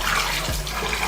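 Raw chicken wings rinsed under a running tap, a steady broadband rush of water splashing into a sink, continuous and close for about a second with no talking.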